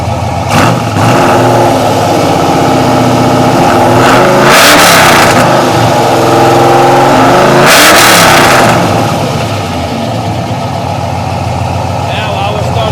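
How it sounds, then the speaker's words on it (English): An LS V8 car engine fires up and runs loud and close, with strong rough idle and two surging revs that rise and fall, steady engine drone throughout. "Now I will start the LS motor and let you know what a real motor sounds like."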